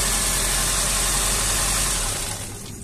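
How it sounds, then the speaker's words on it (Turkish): A car engine that has just had its starter motor repaired runs at a steady close idle, then fades away near the end. "Evet, aracımızı çalıştırıyor."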